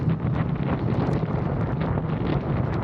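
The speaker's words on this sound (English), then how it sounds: "Wind resistance is very bad. There's no wind protection." Steady, loud wind roar buffeting the microphone while a Ducati motorcycle cruises on the highway with no wind protection, constant and unbroken throughout.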